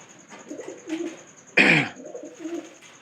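Domestic pigeons coo softly in low, repeated murmurs, broken by one sharp, brief burst partway through, with a faint steady high tone behind.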